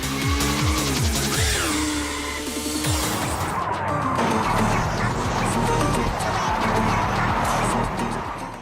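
Forza Horizon 5 car drifting in the video game, with a loud continuous engine roar, rising and falling tire squeal and skidding, up close and sustained throughout, no talking.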